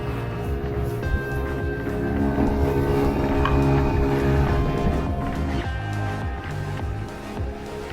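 Small outboard engine pushing a boat with a kayak aboard across open water, a steady loud motor drone with water and wind rush throughout, no speech.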